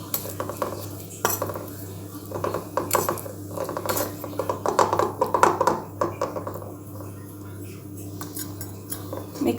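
Spleen fry tossed with pepper in a pan, a metal spoon scraping and clattering against the pan in quick, irregular strokes, close and fairly loud throughout.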